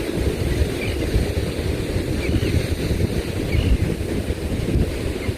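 Ocean waves and tide washing in and out, a dense steady roar of surf with wind noise on the microphone, continuous and fairly loud with no voices.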